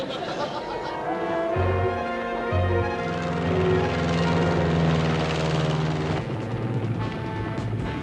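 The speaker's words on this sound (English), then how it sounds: "The seaplane's right ahead in the cove." A seaplane engine drones nearby in a cove, a steady propeller hum holding throughout, with no talking.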